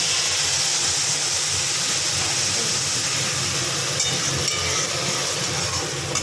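Ground spices and turmeric hitting hot oil in a pan for a potato, cauliflower and paneer curry, producing a loud, continuous broadband sizzle and hiss that stays steady from start to finish.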